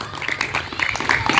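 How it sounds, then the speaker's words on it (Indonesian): Children and their teacher clapping together in a classroom after a game, a brief patter of applause that grows a little louder, with voices mixed in. "tepuk tangan untuk kita semua anak-anak"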